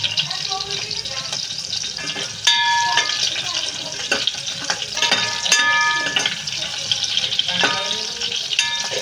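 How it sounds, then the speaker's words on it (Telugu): Green chillies fry in the oil left from frying paneer for a curry, a continuous crackling sizzle with scattered spatters and stirring clinks, while someone talks over it. "పన్నీర్ ఫ్రై చేసిన దాంట్లోనే పచ్చిమిరపకాయలు అయితే వేసి ఫ్రై చేస్తున్నాను"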